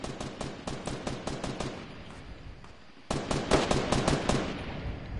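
Rapid bursts of automatic gunfire in Fortnite, aimed at a built wall, crackle in quick regular shots, pausing briefly midway before a louder, denser burst resumes.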